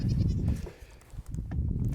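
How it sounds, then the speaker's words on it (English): Goats bleating loudly and close by, several overlapping calls in quick succession with a brief lull in the middle. "the goats are extremely mad that I am not letting them out"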